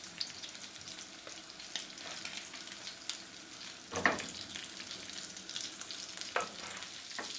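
Beef steak sizzles in a pan as butter is poured over it, a steady broadband crackle with a sharper burst partway through and occasional pops, close and moderately loud, no talk.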